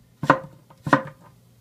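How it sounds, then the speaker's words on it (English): A kitchen knife slices down through a peeled onion on a cutting board, two crisp, close chopping strikes about half a second apart, each with a brief crunchy tail, with no voices. "Using your fingers as your guide, you're going to slice down."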